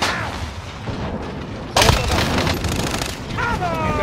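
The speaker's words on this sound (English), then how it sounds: "Taking fire over here." Video game gunfire in a firefight against enemies on a roof, with a loud burst of shots and booms standing out over a dense, continuous battle din, while a voice talks over the action.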